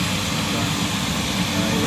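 A helicopter in Munich, Germany, starts up and takes off, its engine drone and rotor roar a loud, steady rumble, with voices partly mixed in.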